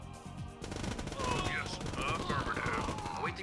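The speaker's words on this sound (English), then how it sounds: "We can even shoot these through walls with our experimental phase guns" Experimental phase guns firing in Command & Conquer, sounding as rapid, continuous gunfire with layered battle effects and a few sharp higher tones on top, held at a moderate level throughout.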